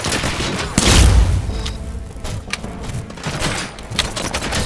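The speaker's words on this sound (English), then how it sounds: "Gunshots? What's going on?" Gunfire in RoboCop: Rogue City: a loud booming shot opens a stretch of scattered, rapid cracks and pops of a firefight that continue irregularly throughout at moderate distance.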